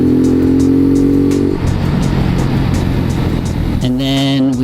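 A Lifan KP Mini motorcycle runs along a seawall with its engine droning loud and close under heavy wind rush. The pitch shifts as it revs up near the end.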